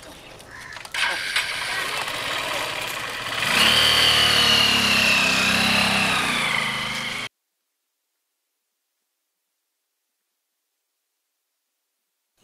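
A motorbike engine runs close by at a steady idle with a rough mechanical drone for about seven seconds, then stops abruptly and leaves silence.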